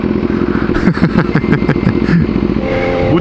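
A motorcycle ridden on a road in Thailand, around Sukhothai, sounds close and loud, its engine buzzing with rapid clattering bursts and small revs, and no one speaks.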